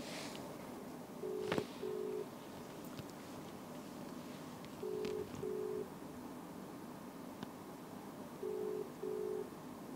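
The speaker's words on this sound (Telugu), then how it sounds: "ఇది వాట్సాప్ కాల్" A WhatsApp call ringing tone sounds as three evenly spaced pairs of short, faint electronic beeps over a low background hiss.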